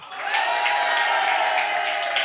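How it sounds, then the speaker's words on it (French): Studio audience at a French radio-television comedy broadcast breaking into sustained applause, a loud, even roar of clapping that swells quickly and holds steady, with cheering mixed into the crowd. "je vous demande d'applaudir Pierre Galibert"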